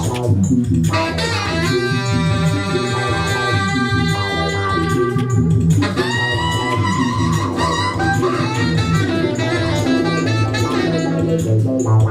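Trumpet and saxophone lines played through Sonic Pi code, a steady synthesized melody with sustained brassy and reedy notes over a bass pattern, loud and continuous with no talking.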